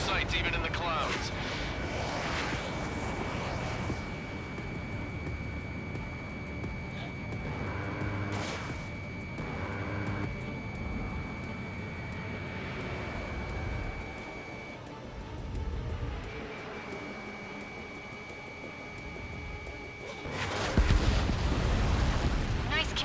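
Jet aircraft dogfight in Ace Combat 7, a sustained engine roar with a steady high whine and bursts of cannon fire, louder near the end, under radio chatter.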